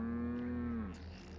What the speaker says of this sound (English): That's just a cow? I didn't know they had cows.